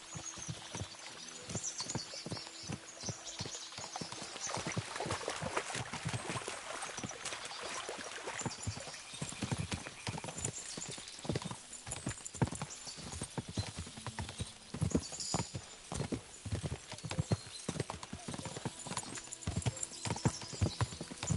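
Rapid, steady hoofbeats of galloping horses pound close by as they cross a stream, with a horse whinnying and water splashing underfoot.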